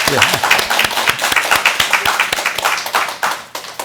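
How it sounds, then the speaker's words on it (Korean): Congregation clapping at a church thanksgiving service marking a pastor's 50th anniversary of ministry, a dense burst of sharp overlapping handclaps, loud and close, with a few voices mixed in. "너무 감사하고 박수로 우리 축하해 줍시다."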